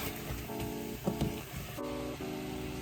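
Chicken pieces hitting a hot pan for Filipino palabok, a steady sizzling hiss that flares briefly in the middle as more is added, with a low tonal hum from a stove fan underneath.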